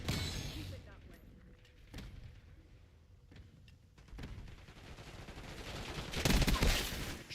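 Gunfire in a Black Ops 6 match on the Nuketown map crackles in scattered shots early, then builds to loud, dense rattling bursts near the end over game ambience.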